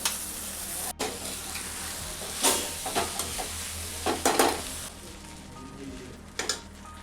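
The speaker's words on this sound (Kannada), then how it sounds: "ಇವಾಗ ಅವಲಕ್ಕಿ ಮಿಕ್ಸ್ ಮಾಡ್ಕೊತೀನಿ ರೀ ಎಲ್ಲ." Poha (avalakki) is stirred in a pan with a soft, steady sizzle, while a spatula scrapes and taps in irregular bursts close by.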